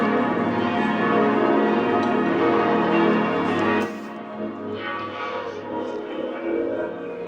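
Church bells ring out across Strasbourg, a dense, steady peal of overlapping strikes that fills the air, then thins and softens partway through as the ringing continues more quietly.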